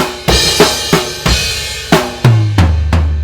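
A drum fill played slowly, with evenly spaced heavy strikes on snare and toms stepping down in pitch, each hit loud and close with a short ring.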